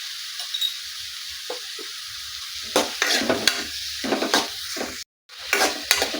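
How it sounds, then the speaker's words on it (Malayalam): Onions sautéing in a pan for a potato chicken curry, with a steady hiss broken by clear scrapes and clatters of a spoon stirring, a brief gap near the end, then more stirring, no voices. "സവാള ഇതൊക്കെ ഇതുപോലെ ഒന്ന് മിക്സ് ചെയ്തതിന് ശേഷം"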